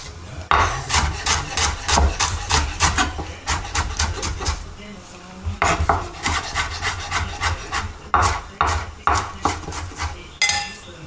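A knife chops shallot on a cutting board in quick runs of sharp, close strikes, pausing briefly between bursts, with no talk.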